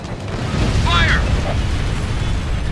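In the Ace Combat Infinity flight game, a hostile fighter bursts apart in a loud, rumbling explosion that roars steadily, with a brief radio voice chirping over it.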